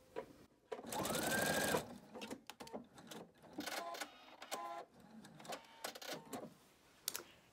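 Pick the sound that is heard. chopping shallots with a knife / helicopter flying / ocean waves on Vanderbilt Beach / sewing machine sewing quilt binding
sewing machine sewing quilt binding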